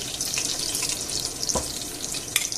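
Meatballs browning in a frying pan give a steady close sizzle and crackle with a brief clink near the middle and a sharp tick near the end, no voices.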